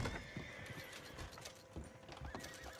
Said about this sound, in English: Some horses going crazy somewhere.